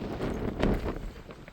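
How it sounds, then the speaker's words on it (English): Strong gusts buffet the microphone high on a mountain trail in Glacier National Park, giving a low, rumbling roar that swells and eases over a second and a half with no voices. "Super windy."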